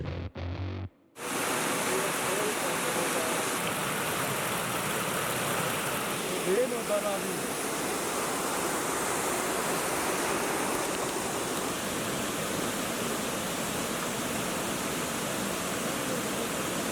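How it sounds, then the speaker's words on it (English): A magnificent waterfall on a hidden trail in Wayanad roars as a dense, steady wash of falling water, loud and close, after a brief muffled start. "look what we find. A magnificent waterfalls"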